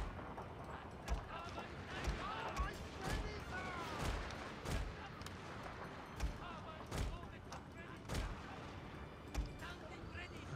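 Musket volleys and artillery fire from a Total War: Shogun 2 battle crack out as repeated sharp bursts every second or so over a dense battle din, with a voice talking over parts of it.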